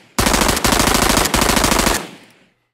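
A designed gunshot sound effect built in Krotos Weaponiser plays as a loud, rapid automatic burst in three close runs of rattling shots, ending with a short fading tail.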